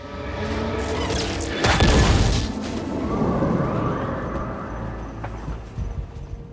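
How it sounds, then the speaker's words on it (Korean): A loud explosion in a Netflix animated series bursts out early and rumbles heavily, then settles into a sustained roaring, crackling aftermath. "폭발 속에서 간신히 눈을 뜬 것은 벤더"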